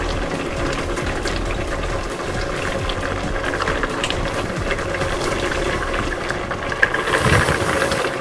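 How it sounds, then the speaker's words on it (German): Steady bubbling and rumbling of water boiling in a pot for dumplings, a continuous low churning hiss at even loudness with no talking. "Hier kocht schon unser Knödelwasser."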